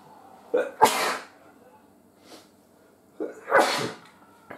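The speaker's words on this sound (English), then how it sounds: "I'm gonna sneeze, hang on." Two loud sneezes from hay fever a few seconds apart, each with a sharp intake of breath before the explosive burst, close to the listener.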